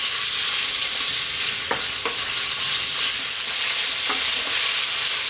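Pork loin fries in a pan over medium heat, a steady loud hiss and crackle of sizzling fat that runs the whole time, broken by a few light scrapes, with no voices.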